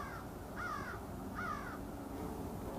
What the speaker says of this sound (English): The most interesting thing, of course, is the birds at this time of the day.